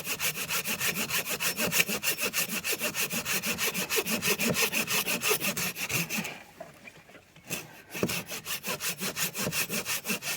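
Hand saw working through wood with fast, regular rasping strokes close up, a brief pause partway through before the rhythmic sawing resumes.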